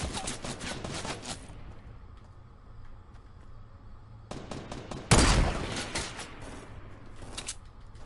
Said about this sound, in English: How is he shooting me?